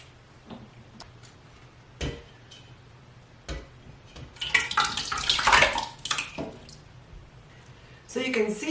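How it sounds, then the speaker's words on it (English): Homemade chicken bone broth is poured from one pot into another, a rushing liquid splash swelling for a couple of seconds between scattered clinks and knocks of cookware, with a second brief pour near the end. "So you can see why I wanted to pour it into another pot."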